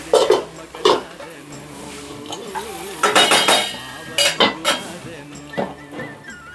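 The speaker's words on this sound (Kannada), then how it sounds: "ನಾನು ಇದನ್ನು ಆಫ್ ಮಾಡಿ ಲಿಡ್ ಕ್ಲೋಸ್ ಮಾಡ್ತಿದ್ದೀನಿ." A metal lid goes onto a pan of okra stir-fry on a home stove after the heat is turned off, with several sharp clinks and clanks of cookware, some near and some softer.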